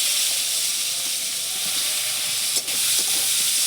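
Chopped onion dropped into hot oil with whole fish-curry spices for a golden moruli fish jhal, giving a steady close hiss and sizzle with faint crackles throughout.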